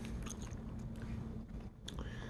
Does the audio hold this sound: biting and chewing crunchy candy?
yes